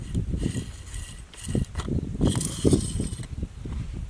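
A carbon sleeve is slid off the barrel of a CZ455 .22LR rifle, giving a few close, faint rubbing and clicking handling sounds over quiet background noise.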